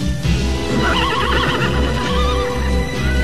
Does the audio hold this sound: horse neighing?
yes